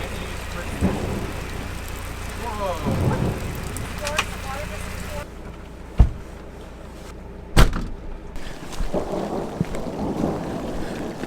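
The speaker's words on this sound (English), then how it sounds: "Yeah, I love a good storm." A thunderstorm with rain on a vanlife road trip toward Alaska, steady rainfall hissing throughout with two sharp, loud thunder cracks and rumbles; a person exclaims briefly amid the storm.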